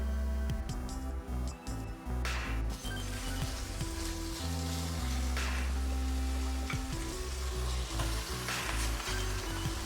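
Pork mince sizzles loudly as it fries in oil in a hot pan, a steady bright crackle with occasional spatters and stirring clicks, close up and without talk.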